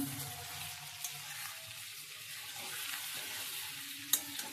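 Sliced onions with turmeric being stirred in a frying pan: a low, even sizzle with soft scraping of a spatula, and one sharp clink near the end, no one talking.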